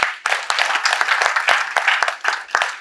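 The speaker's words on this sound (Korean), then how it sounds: "폴리뉴스 기자 여러분들께 응원의 박수를 보냅니다." An audience applauds at the 23rd anniversary ceremony of Polinews and its forum, with close, dense clapping in a steady wash that rises and dips slightly across the burst.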